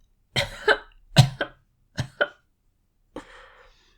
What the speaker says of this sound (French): Des sanglots et une toux rauque et caverneuse l'interrompirent